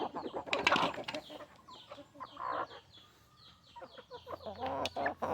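Several Rhode Island Red chickens cluck and squawk close by in irregular bursts, with one louder, sharper call near the start and busy clucking throughout.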